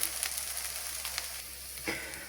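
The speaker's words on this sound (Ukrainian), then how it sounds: "Накриваємо кришечкою і на дуже повільному вогні смажимо з обох сторін до готовності." Meatless vegetable cutlets fry in a covered pan over very low heat, giving a soft, steady sizzle with a few faint crackles and pops, and no voices.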